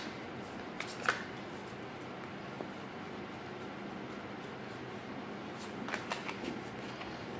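Tarot cards rustle and slide as they are picked from a deck, a soft close papery shuffling with a few sharper flicks and snaps over a quiet background.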